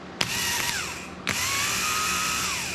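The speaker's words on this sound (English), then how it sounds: "When I touch the positive to this bolt right here, it should start." A repaired ATV starter motor spins on a bench, loud and close, with a sharp contact click, a brief whir, a second click and then a sustained high whine that sags slightly as it keeps running, with no talking.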